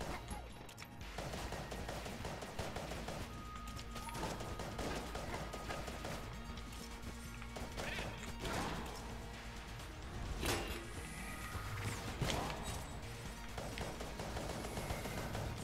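Gunfire in the video game Enter the Gungeon, a steady rapid stream of shots and bursts with crashing impacts and whooshes layered on top, continuous and dense with no talking.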